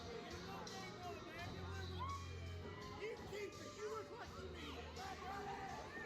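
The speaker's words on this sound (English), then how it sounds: "The crowd is into that one, guys." Crowd at a wrestling show reacting, a steady murmur of chatter and cheering from many people, heard at a moderate distance and blended with a low hum.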